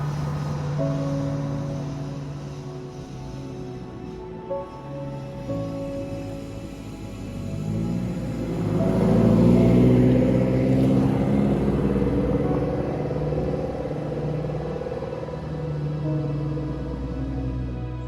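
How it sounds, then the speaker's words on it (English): A Lotus Esprit flat-plane crank V8 idles with a low, uneven burble, then revs up and settles back to a steady hum, fairly close. "It's also a flat plane crank, so it doesn't sound quite like your normal V8."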